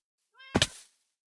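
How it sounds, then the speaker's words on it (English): A Minecraft cat lets out one short, loud meow in a video game, rising at the start and clean against otherwise silent surroundings. "Actually, is the sound of the cat gonna get annoying?"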